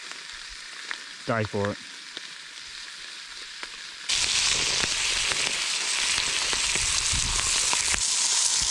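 Bacon and chicken fry on a thick recycled car rim grill at a riverside bush camp, with a steady dense sizzle that jumps louder partway through and keeps crackling, while someone speaks briefly early on.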